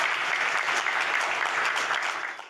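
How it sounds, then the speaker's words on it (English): A church congregation claps in praise after a healing testimony of a woman relieved of arthritis pain, dense continuous applause filling the room at steady loudness and tapering slightly at the end. "Clap for Jesus."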